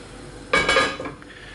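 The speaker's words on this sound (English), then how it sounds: "I'm gonna borrow the lid off another pan." A metal pan lid lifted and set back down on a pan in a home kitchen during paella cooking, one short close clatter with a faint ring, then quiet.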